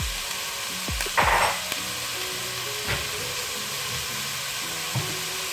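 Onions braise in olive oil at the bottom of a pot with a steady close sizzle, broken by a few soft thumps and scrapes of stirring and no talk.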